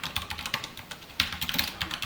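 Fingers tap quickly on a computer keyboard while Java code is written, a close, quiet run of irregular key clicks with short pauses between bursts.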